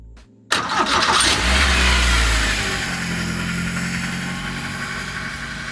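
K24-swapped Porsche 911 engine cranks with a sudden loud burst, then settles from a high, fast idle to a steadier lower idle with a dark exhaust rumble that continues close by.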